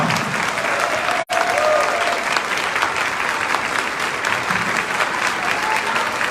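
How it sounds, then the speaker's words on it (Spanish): An audience at a ceremony honouring a specialists' director bursts into loud, sustained applause, a continuous wash of many hands with a faint murmur of voices beneath and one abrupt cut partway through. "Fuerte el aplauso para nuestra directora de especialistas"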